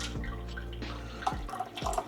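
Water is poured from a kettle over coffee grounds for a pour-over brew, a soft continuous trickle with a few small splashes and drips, fairly quiet and close, with no talking.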